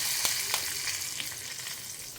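Sambar powder and turmeric powder with curry leaves fry in hot oil as a spoon stirs, a bright, even sizzle close by, broken by a few soft scraping clicks.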